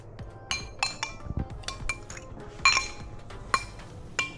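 A glass is swirled and knocked around while its rim is coated with sugar for homemade bubble tea, giving a series of light clinks and taps, close and fairly quiet, with no talk.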